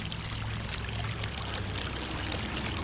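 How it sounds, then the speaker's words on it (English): Water pours steadily from a pitcher over a mound of sand, soil, pebbles and mud, a continuous close splashing stream with no talk. "Now, slowly pour a pitcher of water over the top."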